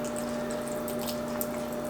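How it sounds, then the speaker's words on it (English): Filtered Berkey water poured slowly into a jar of fresh green beans and cooked bacon for pressure canning, a soft steady trickle over a constant low hum. "I am going to be adding filtered water"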